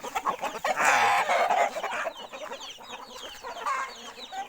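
Several chickens cluck and squawk close by, with a loud burst of agitated clucking followed by softer scattered calls.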